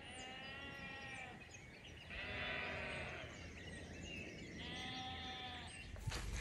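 Sheep bleat in long, wavering calls, two drawn-out cries rising over a quiet outdoor background, with a brief knock near the end.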